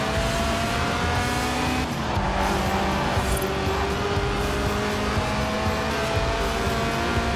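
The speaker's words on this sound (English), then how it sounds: "The honourable art of drifting." Engine roar of a car drifting in Forza Horizon 4, loud and continuous, with tire squeal sliding through a sustained high-revving drone and no pauses.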